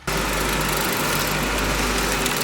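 A small tractor engine runs steadily at a residential building site where footings are being dug, a close, constant droning hum with no talk over it.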